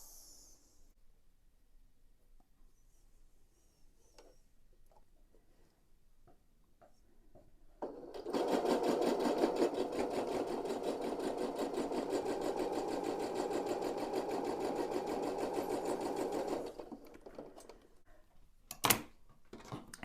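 A sewing machine stitches a seam across a pineapple quilt block, running in one steady, rapid mechanical burst of about nine seconds after a quiet stretch of small handling noises, then stopping, followed by a couple of sharp clicks.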